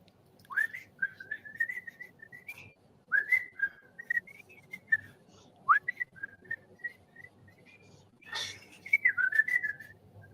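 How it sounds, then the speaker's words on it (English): A person whistles a wavering, bird-like tune in several short phrases with brief pauses, fairly close and clear against a quiet background. "it's always hard being put on the spot to whistle"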